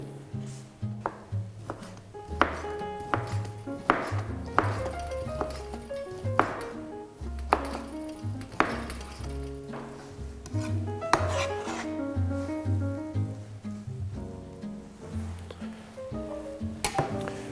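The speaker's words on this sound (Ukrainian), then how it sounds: "м'ясо беремо, нарізаємо тоненькою соломкою" Knife chopping on a cutting board as meat is sliced into thin strips, a steady run of close, crisp taps and scrapes under soft background music.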